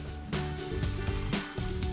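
Fish coated in Korean pancake frying powder sizzles steadily in hot oil, a close, continuous crackling hiss with small pops, heard on its own without speech.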